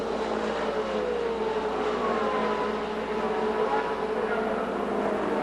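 Indy cars racing in the 1978 Indianapolis 500 make a steady engine roar that holds throughout, with whining tones sliding up and down as the cars weave through traffic.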